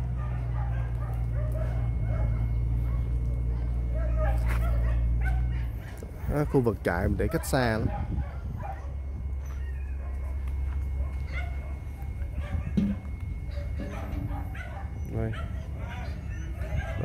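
Dogs at a Phu Quoc dog kennel in Saigon bark and yelp excitedly at feeding time, a burst of several barks rising over a steady low rumble while someone talks throughout.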